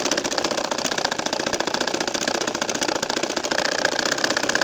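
A domestic sewing machine stitching a nakshi kantha baby quilt hums in a steady, fast mechanical whir with a dense rapid needle rhythm, close and continuous throughout.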